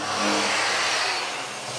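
A power sander fitted with 1200 grit sandpaper buffs a guitar finish, a loud, steady broadband whir close up that eases slightly toward the end.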